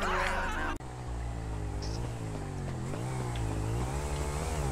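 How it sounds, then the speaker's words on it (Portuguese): A motorcycle engine in the video game GTA V drones steadily and loudly with a buzzing, saw-like tone that rises and falls slightly in pitch, following an abrupt cut from an earlier sound. "Porra de moto é essa aí?"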